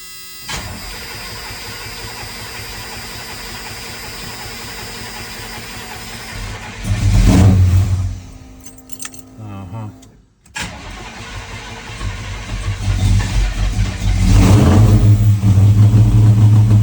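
A 1985 Chevy C10 truck engine cranks, catches and starts, then revs up in a loud surge, stalls briefly, and restarts into a rough, rising idle close by, with voices faintly underneath.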